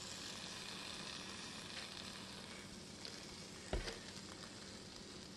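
Chicken wings sizzle steadily on a hot preheated cooker, a soft continuous frying hiss with a brief thump partway through.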